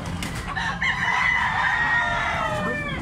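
A big, tall black-legged Possum gamefowl rooster crows one long, loud, sustained crow close by, set over a steady low rumble of background noise.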